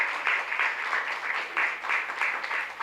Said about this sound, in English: let's give them a big round of applause for going through all that and convincing peers.